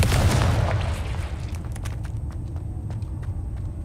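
A Confringo fire spell in Hogwarts Legacy bursts as a deep booming explosion at the start, then rumbles and crackles away into a lingering, fading tail.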